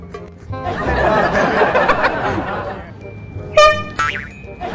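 A loud blaring horn blast cuts in, with a rising tonal honk near the end, while people talk and laugh loudly throughout.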